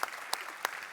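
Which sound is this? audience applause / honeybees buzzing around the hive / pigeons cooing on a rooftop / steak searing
audience applause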